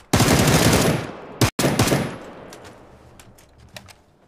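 Video game gunfire erupts as a loud, close burst of rapid automatic shots, briefly cut off, then resumes before trailing into scattered fainter shots.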